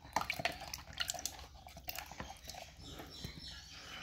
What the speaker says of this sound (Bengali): এবার আমগুলোকে ধুয়ে নিব, ঠান্ডা জলে ধুয়ে নিতে হবে,